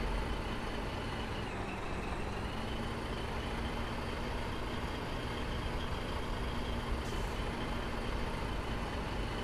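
Truck engine driving in the war game Foxhole, a steady, dense rumbling drone that holds unbroken and fairly loud the whole time with no voices.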